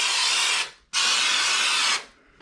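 An aerosol can of drywall texture sprays in two long hissing bursts separated by a short pause, close and loud with no talking.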